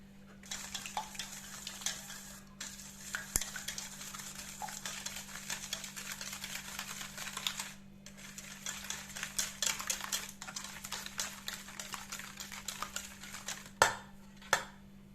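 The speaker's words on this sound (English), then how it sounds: "Just crack them in and give it a nice whisk." Eggs cracked into a bowl for banana bread batter and whisked briskly, a fast rapid clatter of whisk against the bowl that pauses briefly, ending with a couple of sharper knocks.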